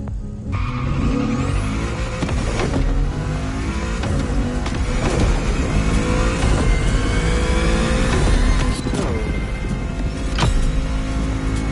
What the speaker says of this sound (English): Warm up your engine and don't blink. This will be a quick one.